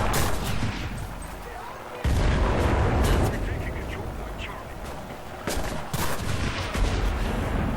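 Bursts of loud gunfire in the video game Enlisted crack and boom in clusters over a busy, noisy background, with people talking over the shooting.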